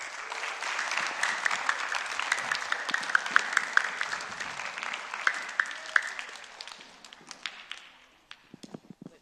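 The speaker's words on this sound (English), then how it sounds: "Can everybody give another round of applause?" A crowd applauding steadily with scattered sharp claps, then thinning out and fading to a few last claps.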